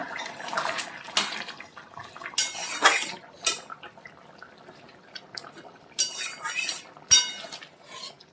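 A metal lid clinks down onto a pot of pointed gourd and potato curry in a home kitchen, with a few sharp clatters spread between quieter stretches.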